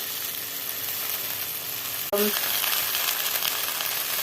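Fresh, finely chopped fenugreek leaves hit a pan of fried masala with a sudden soft thump, and the frying sizzle then swells louder and stays steady and close.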